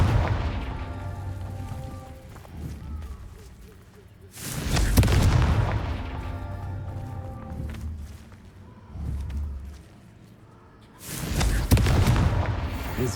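Booming Confringo spell blasts from Hogwarts Legacy go off one after another, two heavy explosions with long rumbling decays and smaller impacts in between, loud and close.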